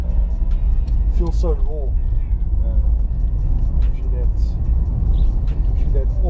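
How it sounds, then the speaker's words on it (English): Old car without power steering driving along with a low, continuous engine and road rumble close by, while someone talks intermittently over it. "It is a bit strange driving the car without power steering as well."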